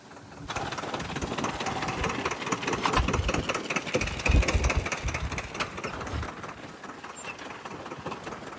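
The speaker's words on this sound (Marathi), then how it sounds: "चाललोय मित्रांनो ट्रॅक्टर घेऊन" A tractor engine chugs and idles nearby with a rough, knocking rhythm, running continuously throughout.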